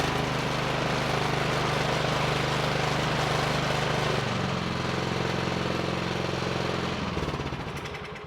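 A Troy-Bilt Vortex 2490 snow blower engine runs steadily at close range with a loud, rough drone, shifts pitch partway through, then begins to wind down near the end.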